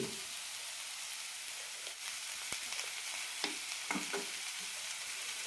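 Bitter gourd and tomato fry in a pan for sambar, giving a steady close crackling sizzle with a few brief sharper pops and stirring clicks scattered through it.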